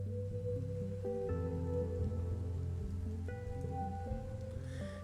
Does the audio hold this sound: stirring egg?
no